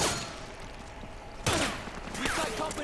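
Gunfire from an M60 machine gun in the Metal Gear video game, a loud burst at the start and sharper shots later, over game music and clipped soldier shouts.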